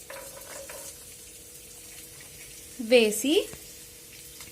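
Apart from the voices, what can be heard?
ginger and garlic pieces frying in oil in a pan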